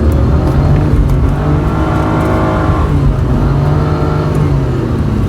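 A Nissan Skyline engine revs hard and loud, its pitch climbing, easing briefly, then rising again in a steady, throaty roar.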